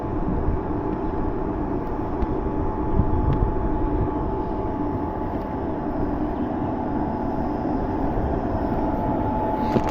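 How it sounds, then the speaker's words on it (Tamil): A long freight train hauled by two engines passes at Tirupattur junction, producing a continuous heavy rumble that holds steady and loud throughout, with no talking. "இதை பார்த்திங்கன்னா டபுள் இன்ஜின் போட்ட சரக்கு ட்ரெயின்"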